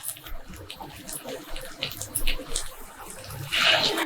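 Water pours and splashes steadily into a mixer jar coated with leftover chutney, with a louder gushing burst near the end.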